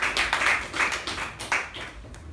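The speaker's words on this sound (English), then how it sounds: "can we have a huge round of applause for all the contestants?" Audience hands clapping for contestants at a club meeting, a brief, close ripple of scattered claps with distinct individual hits.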